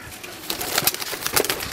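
Soft coos of high-flying pigeons, a few low murmuring calls over a rustling, breathy background with no talking.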